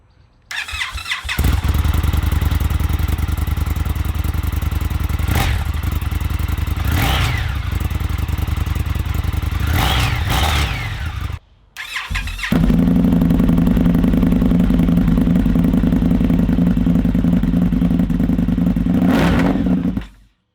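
Indian FTR 1200 big twin motorcycle with a straight-pipe race-fit exhaust, loud and close, starting up and idling with sharp revs, then a brief cut before a steady, heavy rumbling idle resumes.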